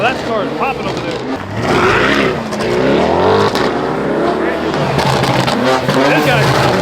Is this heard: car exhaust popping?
yes